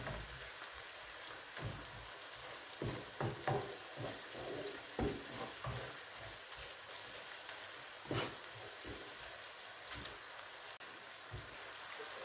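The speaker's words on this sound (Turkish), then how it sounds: "Şöyle domates rendemi ilave ediyorum. 1-2 dakikada böyle kavrulacak." Grated tomato and homemade pepper paste fry quietly in a pan, giving a faint, steady sizzle broken by occasional soft clicks and stirring scrapes.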